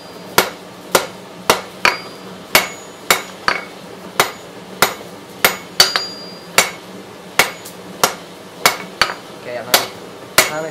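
A hammer strikes hot metal on an anvil to taper the neck of a forged crane, ringing blows landing in a steady, evenly spaced rhythm of about fifteen sharp, loud hits, close up with no talk.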